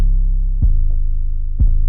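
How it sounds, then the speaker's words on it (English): A hip-hop 808 bass in the second half of a verse, switching up its pattern: a loud, continuous low boom with two fresh attacks giving a bouncing rhythm, no other voices. "That 808 does switch up a bit in the second half of the verse"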